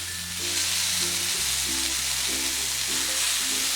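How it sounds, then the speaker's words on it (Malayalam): Chicken tikka skewers sizzle and fry in oil on a gas stovetop, a steady close crackle that holds throughout with no voices. "ഫ്ലെയിമിനി കുറച്ചിട്ടിട്ട് വേണം ഇത് ഫ്രൈ ചെയ്തെടുക്കേണ്ടത്."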